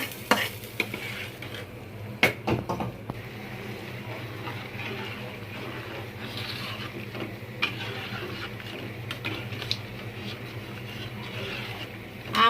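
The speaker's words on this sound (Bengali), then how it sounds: "পেঁয়াজ আর রসুনটা বাদামি করে ভাজা হয়ে গেছে। এখন আমি ডাইলে ঢেলে দিব।" Browned fried onion and garlic are tipped into a pot of mango dal and stirred, giving a soft, steady sizzle with occasional sharp clinks of a spoon against the pot.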